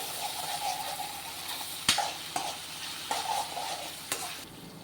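Ground chilli paste for chilli chicken fries in a pan with a soft, continuous sizzle, broken by a few sharp scrapes and clinks of stirring, close and fairly quiet.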